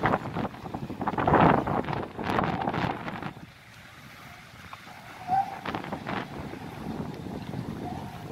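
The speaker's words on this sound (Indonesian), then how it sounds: "Cuacanya panas, angin besar, gelombang alun." Strong wind buffets the microphone at Merak port's Dock 7 on a hot day with heavy sea swell, loud gusts in bursts over a low, restless rumble of water, easing off partway through.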